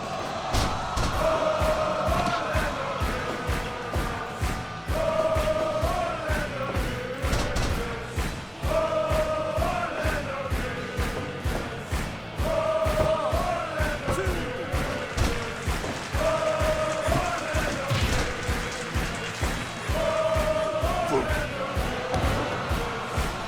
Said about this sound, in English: I am going to play this Orlando Nunez chant because it's fucking incredible